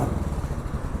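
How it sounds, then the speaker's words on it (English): Exhaust of a 2012 Royal Enfield Classic 500 single-cylinder motorcycle, a close, low, rapid thumping pulse in a steady rhythm that lasts about a second, with no one talking. "Yeah, you can hear that exhaust."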